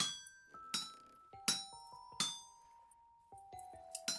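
A helve hammer strikes metal in the game Vintage Story: a series of bright, ringing clangs at uneven intervals, each with a metallic ping that fades out, fairly close and heard without talk.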